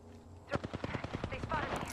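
Rapid automatic gunfire rattles in the Apex Legends battle royale, a burst of closely spaced sharp shots starting abruptly and continuing steadily over faint voice chatter.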